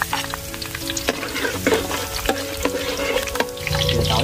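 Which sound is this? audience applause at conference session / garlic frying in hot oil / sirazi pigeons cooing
garlic frying in hot oil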